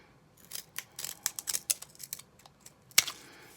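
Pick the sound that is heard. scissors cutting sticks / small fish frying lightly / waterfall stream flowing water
scissors cutting sticks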